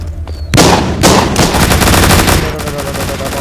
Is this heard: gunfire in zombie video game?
yes